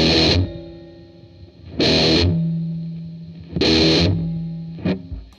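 Electric guitar played through a Zvex Box of Metal distortion pedal: three heavy distorted chords struck and left ringing, each decaying into a sustained buzzing hum, followed by a short final stab.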